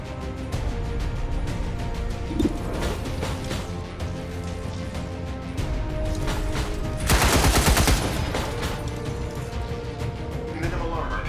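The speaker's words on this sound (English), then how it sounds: "Enemy firing this zone!" Enemy gunfire in LA Noire, rapid bursts of shots crackling close and loud, with a heavier volley midway and game voices speaking over it.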